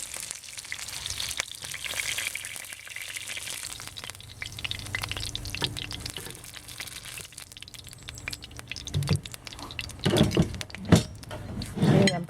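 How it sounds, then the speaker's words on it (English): Peking chicken deep frying in hot oil gives a steady, soft bubbling sizzle throughout, with a few louder crackles and pops near the end. "So I want to deep fry more a little bit, make it crispy."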